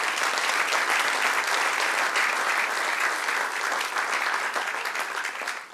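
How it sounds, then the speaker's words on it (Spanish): Sustained applause from a church congregation honoring the Lord, a dense steady wash of many hands clapping that holds throughout and tapers slightly at the end, with no talk over it. "darle un aplauso al Señor"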